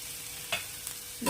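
Onion chutney with crushed green chilli thecha is stirred in a pan over a low flame, giving a few faint, brief scrapes over a soft, steady frying hiss.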